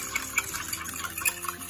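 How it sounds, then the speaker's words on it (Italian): Water splashes briefly into a pan of carbonara with its egg cream, a close, soft trickle with light drips lasting under two seconds. "Un po' d'acqua."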